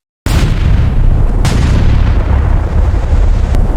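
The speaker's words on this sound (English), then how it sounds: "and a test shot is fired." A restored Tiger tank's cannon fires a test shot with a sudden, very loud boom that rolls on as a heavy rumble, followed by a second sharp report.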